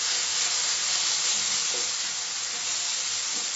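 Mushrooms that have released their water sizzle steadily in a pan over medium heat while being stirred. The hiss is even and continuous, close by, with no voices.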